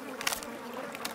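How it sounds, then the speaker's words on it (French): Cartoon flies buzzing in a short animated scene, a steady insect drone with a few brighter swells, fairly close and alone with no talk. "Allez-vous-en, les mouches."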